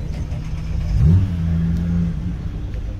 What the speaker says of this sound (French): J'ai vu la Z4 démarrer.